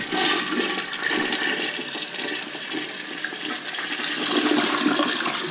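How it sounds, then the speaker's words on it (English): A toilet flushes with a steady, full rush of water lasting several seconds, close and loud throughout, in a home bathroom where roots in the toilet line were cleared and a repair flange installed. "There's our flush that we wanted."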